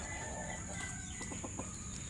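Champion gamecocks cluck and call in short bursts against a faint, constant background hum, fairly quiet and a little distant in a farmyard.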